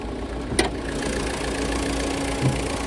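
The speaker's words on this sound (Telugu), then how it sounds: "ఇంజన్ మాత్రం చాలా బాగుందండి, ఇంజన్ ఎక్సలెంట్ ఉంది, చాలా సైలెంట్ ఉంది" A Ford EcoSport Trend 2015/16 diesel idles steadily at close range, a smooth, even low hum with a couple of faint clicks and no voices.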